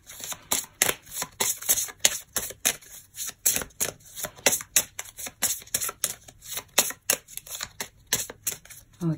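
A deck of tarot cards is shuffled by hand, a rapid series of crisp riffling bursts repeating in an uneven rhythm close up for several seconds, with no talk over it.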